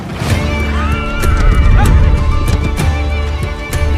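A horse whinnies loudly and close in a medieval drama scene, with long wavering neighs, a few hoof clops and rustling around it.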